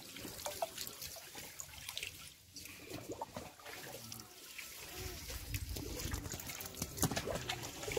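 Water pours and trickles over Shiva lingams during an abhishekam, a soft, uneven splashing close by that turns to a steadier flow toward the end, with faint voices around it.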